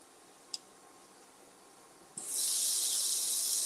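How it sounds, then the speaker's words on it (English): Steam for cooking food bursts on suddenly after a quiet stretch with a single small click, becoming a loud, bright, continuous hiss that holds steady to the end. "I do like how the steam kind of makes them wrinkle"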